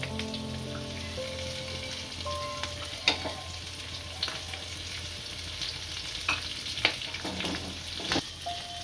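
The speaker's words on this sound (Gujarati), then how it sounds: "અને તેલમાં ચડવા દઈશું" Green pigeon peas fry in oil in a pan for a fenugreek vegetable dish, giving a steady crackling sizzle with occasional sharp stirring clicks and scrapes, close by and without talk.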